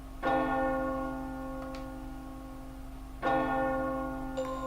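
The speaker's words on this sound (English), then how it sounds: "The bell has struck midnight." Two deep, resonant tolls of a large bell marking midnight in The Guided Fate Paradox, each strike ringing out and slowly decaying, spaced about three seconds apart, clear and alone without talk.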